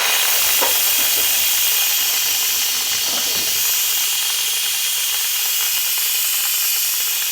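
An Instant Pot pressure cooker vents steam during a manual pressure release, a loud, steady hiss that runs unbroken for several seconds, with a faint rattle of the valve near the start.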